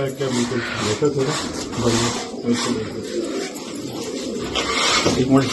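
Pigeons coo in low, rounded, repeating calls close by, mixed with people talking and some background noise.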